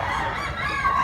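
A young rooster, a stag, lets out a short throaty cluck-crow with a raspy harmonic tone, close by and alone for about a second.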